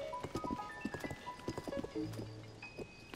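Horse hooves clip-clopping in Zelda Tears of the Kingdom, a quick, even rhythm of close hoof strikes over a soft game music and ambient bed, with a few brief tonal chimes.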